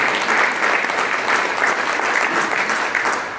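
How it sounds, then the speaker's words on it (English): Audience applause at a multicultural real estate summit, a dense steady clapping from a crowd that holds for several seconds before tapering off near the end. "Yeah, that's right, clap."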